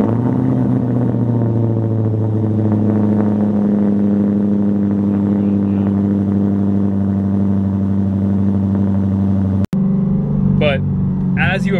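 A Chevrolet Corvette C8 fitted with a Paragon Performance aftermarket exhaust rumbles loudly and steadily at close range, then a sharp break leads into a few brief, higher bursts.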